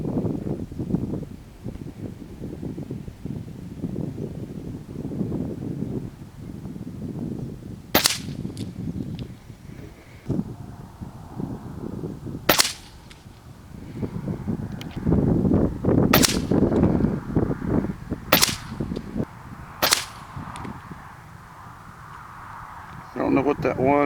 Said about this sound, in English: 5 shots at 50 yards.